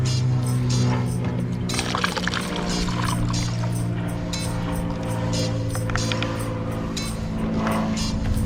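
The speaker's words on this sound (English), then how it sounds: "I'm gonna pour some down into the rad as well." Coolant pours into the radiator of a Nissan car with a burst coolant hose, a continuous gurgling liquid rush under a steady low hum, with scattered clinks and splashes throughout.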